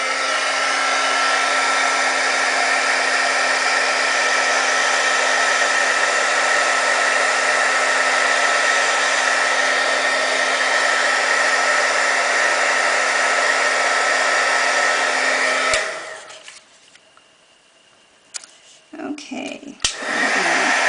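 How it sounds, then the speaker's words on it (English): A heat gun blows hot air over a craft piece, a loud, steady whooshing drone with a constant hum that runs for about fifteen seconds, then cuts off to near quiet with a few faint handling knocks. "I'm going to take the heat gun now and heat this."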